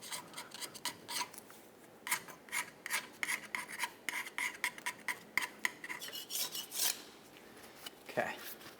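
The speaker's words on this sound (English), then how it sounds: "I have this entire casing scraped down." A metal scraper rasping old gasket material off a Ford F-150 rear differential housing, repeated short scraping strokes in an uneven rhythm, close but fairly quiet, with no talking.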